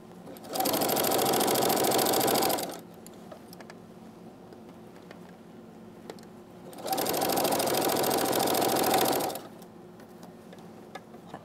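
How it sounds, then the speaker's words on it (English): A sewing machine stitches around the edges of a toddler poncho in two steady bursts of fast, even running, each about two seconds long, with a quiet pause between them. "I'm gonna just take this to the machine, I'm gonna sew it all the way around"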